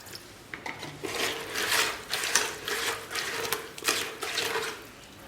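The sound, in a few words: mixing mud and water into a thick paste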